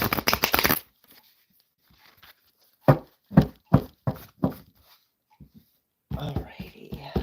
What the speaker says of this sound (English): give them one good quick shuffle here